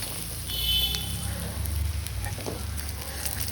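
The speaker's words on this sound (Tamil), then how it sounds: "சின்ன வெங்காயமும் பூண்டும் போட்டு நல்லா அது எண்ணெயில் வதங்குற அளவுக்கு பண்ணணும்" Shallots and garlic sauté in oil with a continuous, even sizzle at moderate volume, a faint crackle running through it and a low background hum beneath.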